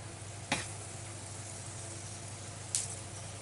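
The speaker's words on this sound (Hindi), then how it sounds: "सबसे पहले यहाँ पर मैं मेथी डालूँगी" Fenugreek leaves for methi pulao hit a hot pan on high flame, giving a faint, steady sizzle broken by two brief sharp pops.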